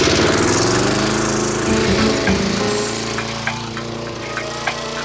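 A lawnmower runs outdoors, with a loud, rough, continuous engine drone up close and scattered clattering knocks toward the end.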